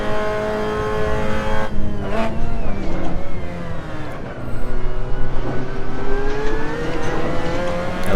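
Mazda MX5 Cup race car racing online at Laguna Seca in Assetto Corsa, a loud close engine revving up and down through gear changes, with brief lifts and tire squeal, continuous throughout.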